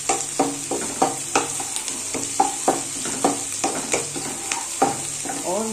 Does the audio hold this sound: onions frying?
yes